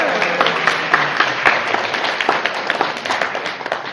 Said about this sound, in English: You can clap, let's clap, yeah.